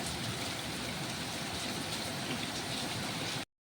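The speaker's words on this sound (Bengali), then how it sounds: "দেখো আজকে সকাল সকাল কেমন বৃষ্টি লেগে গেল, প্রচুর বৃষ্টি হচ্ছে।" Heavy rain pours in a steady, even hiss that continues unbroken, then stops abruptly.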